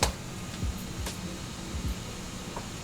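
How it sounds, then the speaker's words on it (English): A 3D printer is switched on and preheats, giving a steady, fan-like whir with a few faint ticks and soft low thumps throughout, close and without talk. "Turn my printer on."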